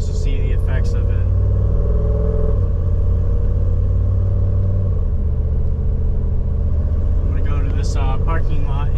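A Jeep drives in high range with its off-road mode engaged, its engine giving a steady low rumble that shifts partway through. Bits of voice are heard near the start and again near the end.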